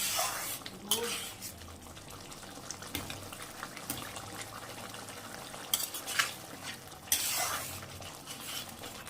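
Spices stir-fried together in a pan for mutton masala, with a quiet sizzle under repeated scraping and clattering bursts of a spoon against the pot.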